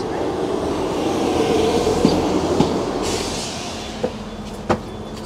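An EMR Class 158 diesel passenger train running in the UK, with a steady rumbling interior drone and a few faint clunks and rail clicks over several seconds, no talking.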